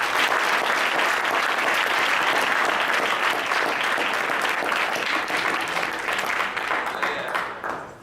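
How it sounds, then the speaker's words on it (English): Loud, sustained audience applause from a crowd honoring conference players, a dense wash of clapping that runs steadily for several seconds before tapering off at the end. "All right, so let's give those guys a round of applause."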